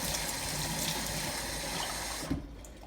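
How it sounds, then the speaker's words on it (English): Warm water runs steadily from a tap into a pita dough mixture, a continuous hissing splash that cuts off abruptly near the end, with no voices. "I'll add another half cup of water, of warm water."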